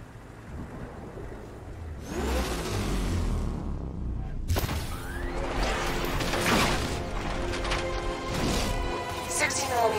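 An unmanned enemy tank in the Batman Arkham Knight video game rumbles with a deep, heavy engine drone that swells loudly after a couple of seconds, layered with mechanical whines and clanks, while voices talk.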